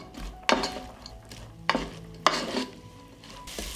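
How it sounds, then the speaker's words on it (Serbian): Chopped onion and garlic sizzle in rendered chicken fat, loud close stirring strokes and spoon scrapes landing at irregular intervals over a constant frying hiss. "propržit ću crni luk i beli luk. I sve ćemo to promešati i pržiti dok luk ne omekša"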